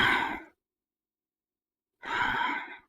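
Two strong, breathy exhales during a yoga crow pose squeeze, close and alone, separated by about a second and a half of silence.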